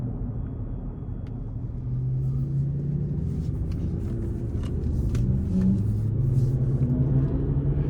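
A 2025 Chevy Colorado WT mid-size pickup with a 2.7 liter turbo four and 8-speed automatic drives along, its low engine drone and road rumble steady and rising slightly as it pulls, heard from inside the cab with no talking.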